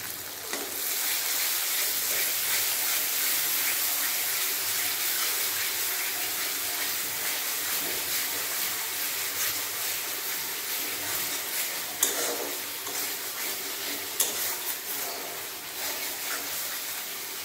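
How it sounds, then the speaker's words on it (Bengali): Spices sautéing in a pan give a steady, dense broadband sizzle throughout, with a few soft scraping stirs near the end and no voices. "মশলা ভালোভাবে কষিয়ে নেব"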